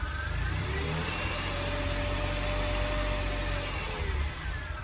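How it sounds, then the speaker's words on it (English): A DeLorean's engine, suffering an idle fault with a slight stumble, rises and falls as the throttle is gradually opened. The engine is close and steady, with a low rumble and a rising whine, and no voices. "If I just gradually give it gas,"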